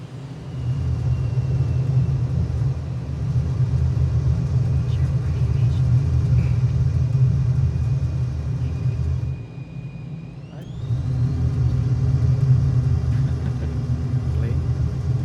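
An aircraft engine in Microsoft Flight Simulator drones as a deep, steady rumble that briefly dips quiet near the middle before returning, with a voice talking over it.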